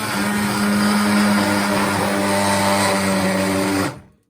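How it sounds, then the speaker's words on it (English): Electric blender whirring as it purees cooked vegetables into soup, a loud steady motor hum held for several seconds before cutting off abruptly. "I'm going to get a blender and blend it."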